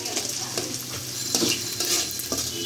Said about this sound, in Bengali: এখন পেঁয়াজটা ভাজা ভাজা